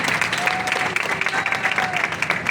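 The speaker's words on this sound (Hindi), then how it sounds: "जोर से इनके लिए भी आप तालियां लगाएं" An audience applauds at a stage event in Haryana, its clapping steady, loud and continuous across the whole moment, with faint tonal sounds in the background.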